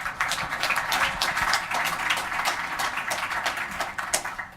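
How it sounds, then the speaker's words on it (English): An audience claps steadily as a speaker arrives on stage at a tech talk. The applause is dense and sustained throughout, moderately loud, with no voices on top. "let's give a round of applause for Amjad"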